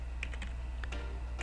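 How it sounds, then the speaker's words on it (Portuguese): Someone types a date on a computer keyboard while building a résumé in Word. A quick, faint series of separate keystroke clicks plays with no talking. "Aí é só digitar a data."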